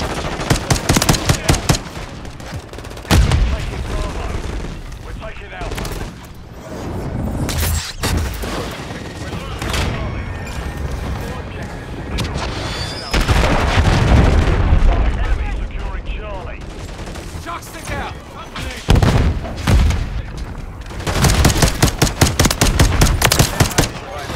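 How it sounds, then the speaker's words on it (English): Chaotic battle audio from Call of Duty MWIII during a cruise missile killstreak strike, with sustained machine-gun bursts, booming impacts and rumbling blasts, with voices calling out over the din. "Cruise missile, stand by!"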